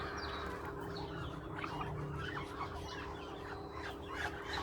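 Faint flock of ducks and small ducklings quacking and clucking together in a group, soft overlapping calls under low background noise.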